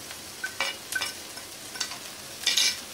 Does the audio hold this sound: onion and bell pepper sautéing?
yes